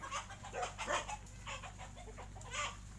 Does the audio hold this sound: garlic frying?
no